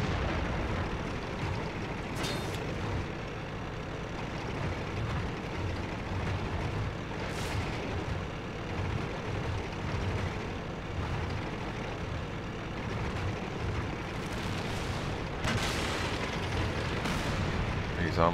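Artillery strikes in the tank game World of Tanks, heavy booming blasts landing a few times at intervals amid a constant rumble of engines and battle noise.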